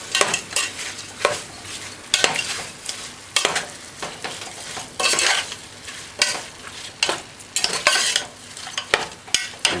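Seasoning fries on high heat in a pot for Jamaican stew peas, a loud crackling sizzle broken by repeated scraping stirs in an uneven rhythm, close by with no talking.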